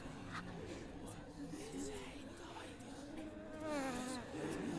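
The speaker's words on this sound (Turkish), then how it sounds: "Ama birinden sinek gibi ses çıkıyor" A creature in the horror game Visage gives off a faint, fly-like buzzing that wavers in pitch and grows slightly stronger toward the end, heard under soft talk and whispering.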